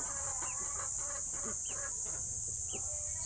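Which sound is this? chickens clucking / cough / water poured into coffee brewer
chickens clucking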